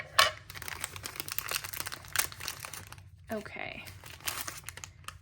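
A fortune cookie's plastic wrapper crinkles and tears open during a tarot reading, with steady close rustling and crunching for several seconds and a brief spoken word.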